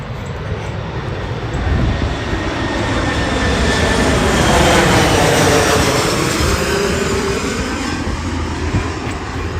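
A jet airliner passes overhead while landing at or taking off from an airport near the Washington Monument in Washington, rising to a loud, broad roar at mid-clip and then easing off, heard alone outdoors without talk.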